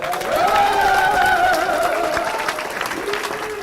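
A crowd claps steadily and loudly while a voice calls out over it, the clapping carrying on after the voice fades.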